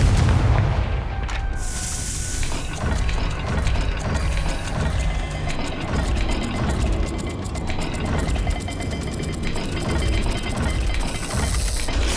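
A Confringo blast spell in Hogwarts Legacy goes off amid loud game action, booming impacts layered with clicking, ratcheting mechanical dial sounds that continue steadily for about twelve seconds.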